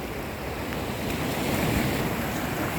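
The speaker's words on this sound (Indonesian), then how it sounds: "deburan ombak dan gelombang ini menyadarkan pada kita untuk kelestarian lingkungan" Ocean waves break and wash continuously on Muarareja beach in Tegal, a broad, steady surf hiss mixed with wind noise that stays fairly constant and moderately loud, with no voices.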